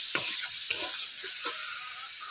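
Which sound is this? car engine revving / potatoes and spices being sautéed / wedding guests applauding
potatoes and spices being sautéed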